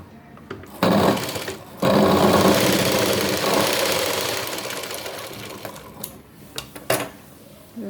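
A sewing machine stitches tucks into a blouse in two loud runs, a short burst then a longer steady whirring stretch that slowly fades, followed by a few faint clicks and handling sounds.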